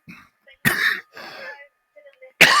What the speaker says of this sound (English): Excuse me, I've had a cough.